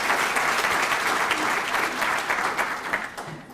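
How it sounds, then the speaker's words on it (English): Audience at a conference applauding to congratulate an award winner for her work with children: steady, dense clapping from a full room throughout, with faint voices underneath. "can I ask you now to congratulate Elizabeth"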